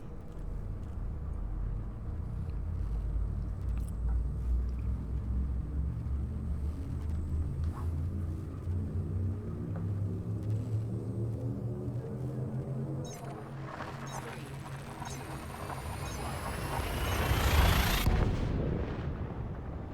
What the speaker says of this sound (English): It's like a lightning storm in space.